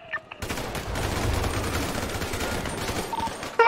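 Rapid automatic gunfire in a video game vehicle chase, a dense, close burst of shots lasting about three seconds, loud and continuous after a brief quiet start.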